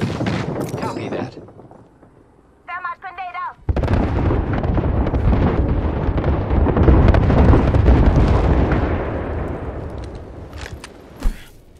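In the Apex Legends video game, an incoming airstrike detonates as a heavy, rumbling barrage of explosions that builds and sustains after a short lull, with a sharp blast near the end.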